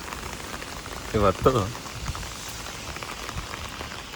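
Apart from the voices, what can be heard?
rain falling in Tokyo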